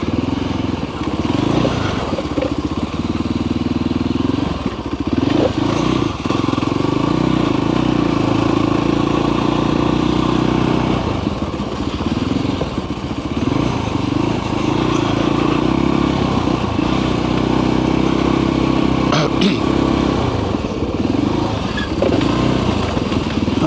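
A Voge Rally 300 adventure motorcycle on stock tyres churns along a rutty, sandy, rocky track, its single-cylinder engine droning steadily up close with constant rumble, wind buffeting and bursts of throttle as the rider picks a line.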